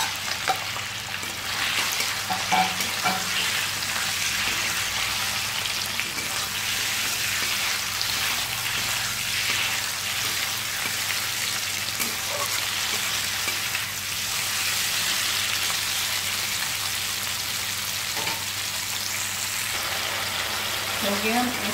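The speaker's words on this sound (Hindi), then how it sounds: "तेल भी गर्म हो गया, फिश को हल्का से फ्राई करना" Fish frying lightly in hot oil in a kadhai, a steady broadband sizzle that holds for the whole stretch with a few faint stirring clicks, close and fairly loud.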